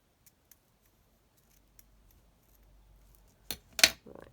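A few faint clicks, then a couple of sharp, close scissor snips cutting craft material near the end, with otherwise quiet surroundings.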